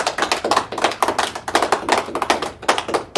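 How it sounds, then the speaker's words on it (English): A small group claps for election candidates at the close of a news-style class project, a short burst of uneven, close hand claps with a few thuddy taps and no voices. "let's have a round of applause for the candidates"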